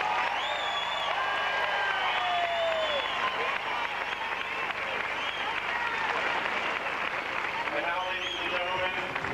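Sustained applause from a large tennis exhibition crowd at the 1998 A&P Tennis Classic final in Mahwah, steady and dense throughout, with a broadcast voice faintly mixed in.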